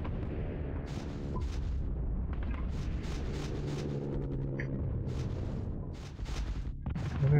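Repeated booming gunshots ring out in Hidden and Dangerous, a run of loud, spaced bursts with rumbling tails and a voice talking between them.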